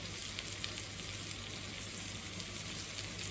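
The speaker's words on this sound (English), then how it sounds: "almost just toast off that tomato paste a little bit before we actually stir it through" Tomato paste toasting among nearly caramelised onions in a pan for beef bourguignon gives a steady, close frying sizzle with faint crackles, heard alone for a few seconds without any talk.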